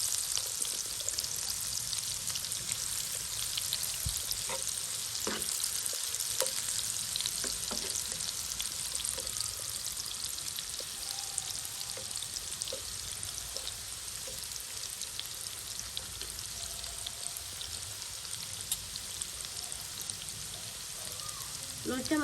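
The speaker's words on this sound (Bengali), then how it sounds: "তো এই মাছটা রান্না করতে হলে আপনাকে অবশ্যই তেলের মধ্যে নাড়াচাড়া দিয়ে রান্না করতে হবে।" Loitta fish sizzles and crackles in hot oil with turmeric, chili and salt as it is stirred, a steady dense frying hiss throughout with occasional scraping stir clicks, no talking.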